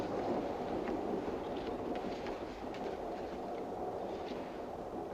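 A moving train in a radio drama: a steady rumble and rattle of the carriages, continuous and fairly loud, with a faint windy hiss and no talking.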